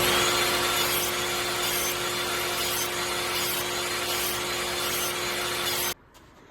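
A saw slices through a wooden board, cutting a thin slice for a segmented vase. The cutting is loud and steady with a constant motor whine and a faintly pulsing rhythm, then stops abruptly near the end.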